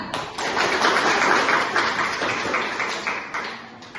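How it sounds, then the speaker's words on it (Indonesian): Classroom applause for a student during a lesson on Pancasila: dense, steady clapping from many hands that stays loud and even for the whole four seconds, with no voices over it. "Tepuk tangan untuk temannya."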